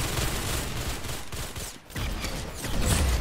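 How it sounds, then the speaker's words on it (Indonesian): A Gatling gun in a Roblox game fires in sustained rapid bursts, loud and steady, dipping briefly midway before the rattling resumes and swells toward the end. "Gatling gun lagi."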